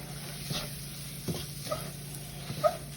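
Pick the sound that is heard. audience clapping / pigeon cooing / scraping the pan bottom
scraping the pan bottom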